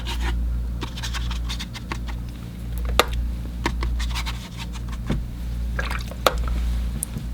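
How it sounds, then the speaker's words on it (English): A wet brush dabs water in spots onto watercolor paper, giving soft scattered scratches and light taps at an irregular pace over a low steady hum, close and fairly quiet. "I'll just put some water on a few spots on the paper"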